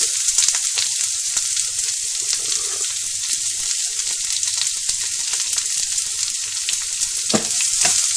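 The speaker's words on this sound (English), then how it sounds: "fry the onion till it turns soft" Onion with a little salt frying in a pan for Mangalorean kori rotti chicken curry, a steady, close, dense sizzle running throughout with a few sharper crackles near the end.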